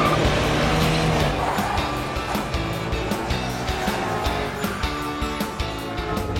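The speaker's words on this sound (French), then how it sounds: "Cette voiture est beaucoup plus rapide que la moyenne." A cartoon car races at high speed, its motor roaring steadily and loud under a busy music-like background, with no clear speech.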